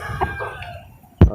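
A red fighting rooster of lemon sweater colouring gives a loud, close, abrupt crow near the end, preceded by a few softer clucks and rustling.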